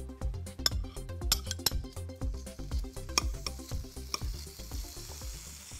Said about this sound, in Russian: разогрелась сковорода. Можно отправлять на нее говядину.